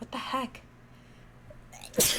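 A sharp, close sneeze bursts out loud right at the end, after a brief stretch of spoken voice and quieter room noise.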